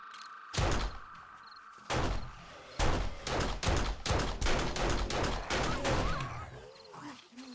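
Rapid pistol shots in the survival game 7 Days to Die, a run of sharp loud reports fired in quick irregular succession, up close, with a few creature growls near the end.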